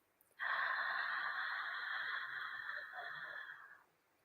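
A person slowly drawing in one long, steady, airy breath during a paced breathing exercise, close and clear, lasting about three seconds with no talking.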